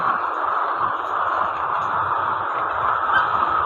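Layer hens kept in an H-type belt system cage, a dense, continuous flock clucking and murmuring steadily throughout, fairly loud with no pauses.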